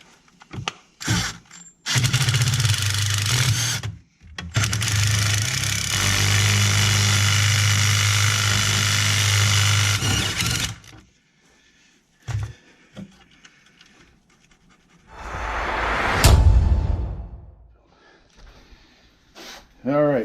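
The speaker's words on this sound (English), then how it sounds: "we're going to put a deck screw in, and then we're going to tighten the deck screw down in there" Power driver spinning a deck screw tight during a laundry sink installation, two sustained whirring bursts with short stops between them, followed by clatter and handling noise, with talking in between.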